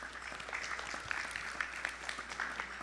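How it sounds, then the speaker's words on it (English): A temple congregation at a Sunday morning Krishna Mandir service claps together in a steady, fairly soft round of applause, heard from a distance in the hall and with no voices over it. "Please extend a round of applause."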